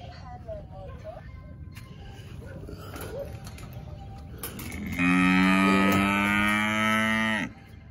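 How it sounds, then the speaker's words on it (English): Cattle in a flooded field moo, with one long, loud, close bellow rising over steady outdoor background noise and faint earlier calls. "All of my cows are up here on the hill"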